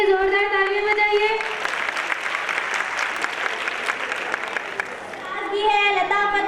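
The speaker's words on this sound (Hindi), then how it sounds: "तलबा की हिम्मत अफजाई के लिए जोरदार तालियां बजाइए।" Loud, sustained applause from an audience at an Urdu school's annual gathering, filling the middle of the clip between stretches of sung or recited voices at the start and end.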